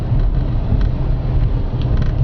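A 2002 Lexus IS300 Altezza with a 5-speed manual, lowered on low-profile tires, rumbles steadily while driving, a dense low engine drone holding constant with faint road noise and no talking.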